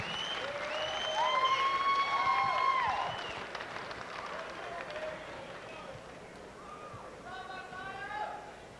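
A crowd at a Reno fight event cheers and applauds in a steady wash of clapping and shouts, loudest early and then easing, with voices talking over the noise.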